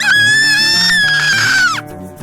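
A whistle made of marking tape blown between the thumbs gives a loud, shrill, squealing wavering tone for nearly two seconds, then bends downward and stops, over a quieter background.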